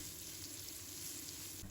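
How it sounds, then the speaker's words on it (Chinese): Hairtail fish pan-frying over medium-low heat, a steady soft hiss of sizzling oil held at an even, fairly faint level throughout, with no talking. "开中小火慢煎"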